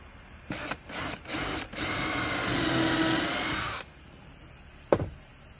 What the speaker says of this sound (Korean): 구멍을 좀 더 내고